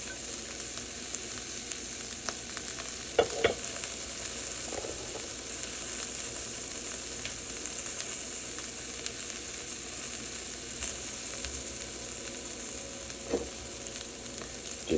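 Garlic sizzles steadily in a pan as it fries, a continuous crackling hiss with a few brief clinks and stirs.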